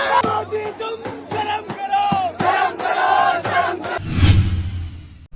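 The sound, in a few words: large protest crowd at Jantar Mantar, Delhi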